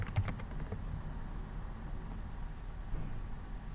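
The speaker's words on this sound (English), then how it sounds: "let me just type in here the customer's name" Close computer keyboard typing, a short burst of quick key taps at the start trailing into steady background noise, entering a customer's name with no talk.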